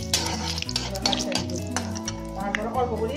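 Whole spices, dried red chillies, panch phoron and bay leaf frying in hot oil, a close crackling sizzle with stirring scrapes and clinks over a musical backdrop.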